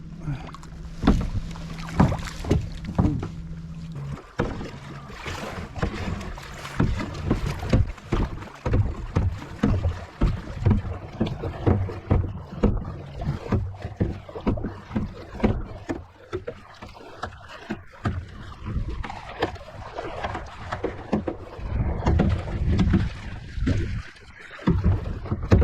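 A kayak paddle strokes through the water on Stockade Lake. Rhythmic splashes and drips repeat close to the microphone, mixed with gusts of wind noise.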